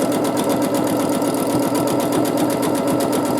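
A sewing machine runs at a steady fast pace while free-motion quilting a teardrop paisley pattern, a loud, close, even rapid chatter of needle strokes with no pauses or talk.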